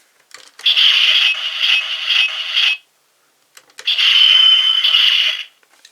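Electronic sound effect from a Gokai Machine DX GaoLion toy, two loud, bright, tinny electronic bursts of about two seconds each, separated by a brief button click and silence.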